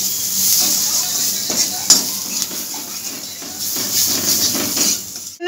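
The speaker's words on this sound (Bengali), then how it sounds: "এরপরে এগুলো আমি একটু ভাজা ভাজা করে নিচ্ছি।" Ground spices with salt, coriander, cumin and turmeric fry in a pan with a steady close sizzle, punctuated by utensil scrapes and clinks while being stirred.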